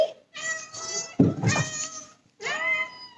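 Several drawn-out cat meows from close by, one after another with short pauses between them, loud and clear with no talking.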